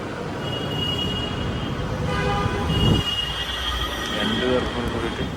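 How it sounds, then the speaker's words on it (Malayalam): A metro train ride in Coimbatore, with a steady rumbling rail drone and brief high tones like a horn or wheel squeal, while people talk nearby over the running noise. "ഇപ്പം മെട്രോ കയറി നോർത്തിലേക്ക് പോകാം"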